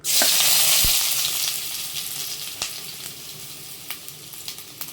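Onions dropped into hot oil in a kadai burst into a loud, close hiss that slowly eases to a steady sizzle, with a few sharp crackles and pops scattered through it.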